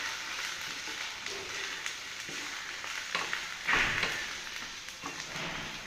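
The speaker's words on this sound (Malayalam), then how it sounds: "ഉള്ളി ഒന്ന് ഇതായി വന്നിട്ടുണ്ട് ഇനി നമ്മൾ പച്ചമുളക് ഇടാം പച്ചമുളക് ഇട്ടൊന്ന് ഇളക്കാം" Green chilies are stirred into onions sizzling in a pan, a steady close frying hiss broken by scraping stir bursts and one louder sputter, with no voices.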